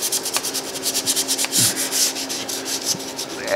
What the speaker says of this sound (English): I'm going to sand this.